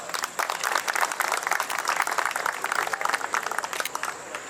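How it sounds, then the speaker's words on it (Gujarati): An audience at a student community gathering in a hotel resort hall claps steadily and fairly evenly, a dense patter of many hands, moderately loud and close, with no talk over it. "તમારી તાળીઓ એ પ્રમાણે નથી વાગતી"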